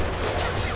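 Concussive Shot ability fired in Mass Effect 2: a short, dense, loud burst of broadband noise that fills the whole moment without a break.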